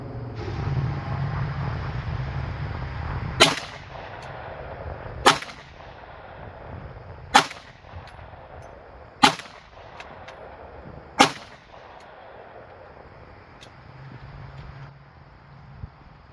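Five sharp outdoor gunshots from 115gr 9mm and 230gr 45 auto CCI Blazer rounds fired at a block, evenly spaced about two seconds apart with short ringing decay and no talking.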